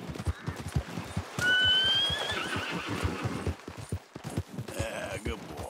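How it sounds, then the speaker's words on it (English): A horse whinnies loudly amid rhythmic hoofbeats clip-clopping throughout in Red Dead Redemption 2, with a second shorter neigh near the end. "I think I heard another horse that isn't my horse."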